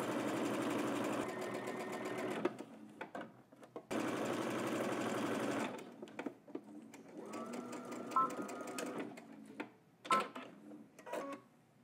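A home sewing machine runs a straight seam, sewing Simplicity pattern 9945, in steady continuous bursts, pausing briefly and then stitching again in shorter runs with small clicks of handling between.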